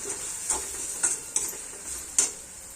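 Spices sizzling in hot oil for a tempering in a pan, a soft continuous hiss broken by four sharp spoon taps or stirring clicks, close and quiet with no voices.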